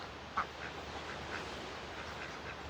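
Ducks quack repeatedly around a rural property, a few sharp nearby calls over a steady outdoor background hiss.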